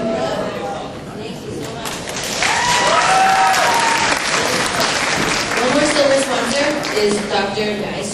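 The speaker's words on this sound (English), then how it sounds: "let's give a round of applause for that" Steady applause from a gala audience, starting moderate and swelling to a full round, with chatter and voices mixed in throughout.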